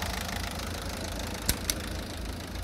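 A Citroën C4 1.6 HDi diesel engine idles steadily right after starting, a continuous low rumble with two brief sharp clicks partway through and no talking.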